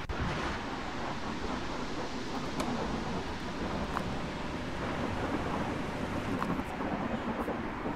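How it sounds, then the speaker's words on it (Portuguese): Storm wind in the video game Gas Station Simulator, a steady roaring, rumbling gust with crackling bursts, constant and dense throughout without any talk. "Que tempestade é essa?"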